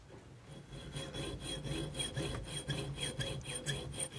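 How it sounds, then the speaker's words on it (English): A hand saw cuts a wooden spindle to 56 mm length, steady back-and-forth strokes rasping in an even rhythm, close and quiet, with no talking. "As you're getting through, you can actually hear the tone of the sawing change."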